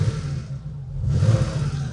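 A 1987 Porsche 911 Carrera 3.2 Targa Sport with G50 gearbox idles and revs, a steady low engine rumble dipping briefly then swelling as the throttle is blipped, heard alone without talk.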